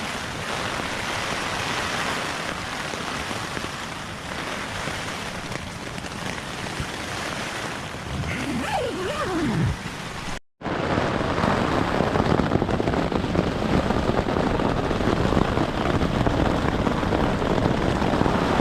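Heavy rain hammers down in the woods during a winter storm with strong winds, a dense, steady roar of downpour with wind mixed in and a short gap partway through.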